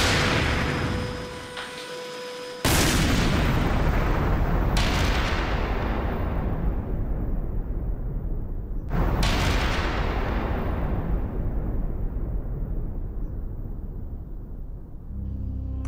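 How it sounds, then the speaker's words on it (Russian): Two loud gunshots fired at an iron can, sharp blasts about six seconds apart, each followed by a long rolling echo and boom that decays slowly, outdoors with no talking. "Я хочу сказать, что ему просто стрельнули в железную банку."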